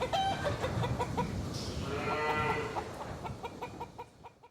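A hen clucks in a series of short, close, quiet calls, with a brief higher squawk in the middle before the sounds taper off.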